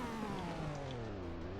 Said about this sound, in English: This right here is the Lambo monster truck.